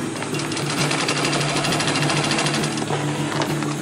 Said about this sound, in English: as I'm sewing this stitch here, I'm pulling it inside the machine.